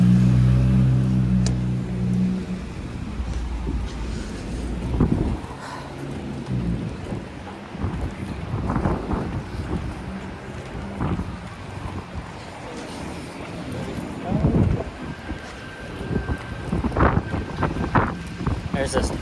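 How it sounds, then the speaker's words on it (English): Strong gusts blow along a downtown Toronto street on a mild winter day, buffeting the microphone with loud rumbling surges and city traffic beneath, while people talk intermittently. "Oh, wind's picking up again."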